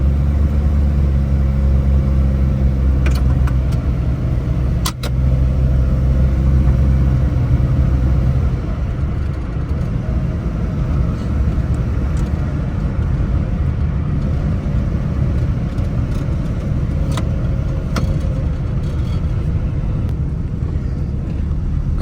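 A Suzuki Mehran with a 660cc engine converted to automatic being driven, a steady loud engine drone with road rumble and wind noise from inside the car and no talk.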